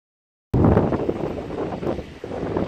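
Strong wind buffets an outdoor microphone at an Amish auction in Holmes County, Ohio, a loud, rough, low roar that bursts in abruptly after a moment of silence and gusts unevenly, with no voices.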